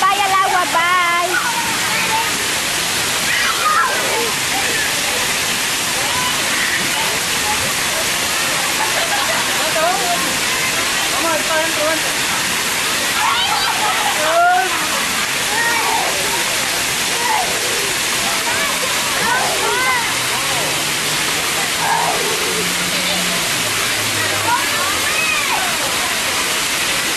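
Rushing water from a waterfall, a loud continuous broadband roar that fills the whole stretch, with voices and shouts faintly heard over the torrent.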